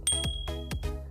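A bright notification bell rings three times in quick succession, clear metallic chimes with a short ringing tail, close and alone.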